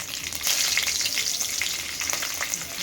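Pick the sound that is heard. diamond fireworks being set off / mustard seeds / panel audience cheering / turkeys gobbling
mustard seeds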